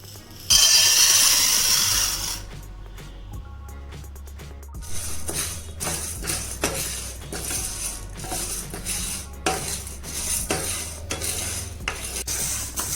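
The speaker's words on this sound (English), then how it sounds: "First we will fry the tur dal" Dry tur dal rattles and scrapes as it is stirred and dry-fried in a pan over medium flame, with a burst of hissing noise at the start, close and continuous.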